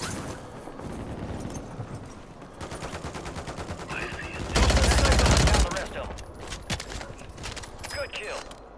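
Gunfire rattles in a Call of Duty Warzone Resurgence match, with scattered shots and bursts building to a loud sustained volley midway, then trailing into sporadic pops while players talk over it.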